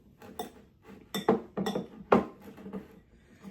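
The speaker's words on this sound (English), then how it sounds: "You're gonna go ahead and mix this up real good." A spoon works through a thick jalapeño popper filling in a bowl, making irregular soft clinks and scrapes against the sides, close and fairly quiet.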